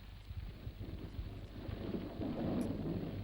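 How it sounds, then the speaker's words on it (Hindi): Steady rain with a low rumble of thunder building in the background, a dense, continuous wash without speech, in a 1981 Hindi telefilm. "बारिश हो रही है"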